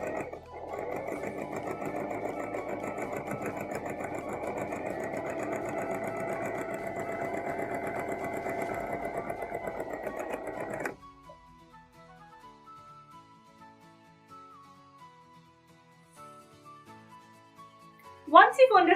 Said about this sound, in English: sew a line of understitching through the seam allowance as close as you can get to the seam